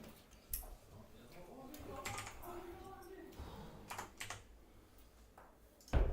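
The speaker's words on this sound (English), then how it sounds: "you'll just hear a little bit of clicking again" A computer keyboard clicks quietly in scattered bursts of short taps and clicks, close but faint, ending in a louder knock.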